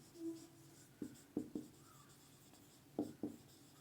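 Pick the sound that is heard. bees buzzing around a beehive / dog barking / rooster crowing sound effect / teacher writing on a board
teacher writing on a board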